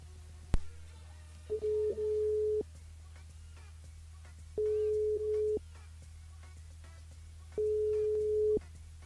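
A telephone ringback tone repeats three times with steady pauses, each a flat electronic buzz lasting about a second, preceded by a click, as a radio show dials a caller over a low background hum.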